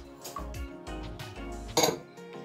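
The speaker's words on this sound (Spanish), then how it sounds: "En el bowl vamos a agregar los huevos, el azúcar," Eggs and sugar go into a mixing bowl for a carrot loaf cake, with close dull clunks and a bright clink against the bowl, a few handling knocks in quick succession.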